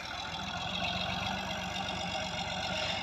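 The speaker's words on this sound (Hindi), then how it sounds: "ट्रैक्टर आ गया" A Massey Ferguson 260 tractor's diesel engine idles steadily nearby, a low rhythmic chugging rumble that holds constant throughout.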